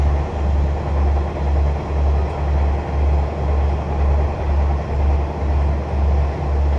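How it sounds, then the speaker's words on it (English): Steady low rumble of a British Rail Class 142 Pacer diesel train running along the track, with a regular rhythmic thump from the wheels passing over rail joints. "this is another class 142 Pacer train"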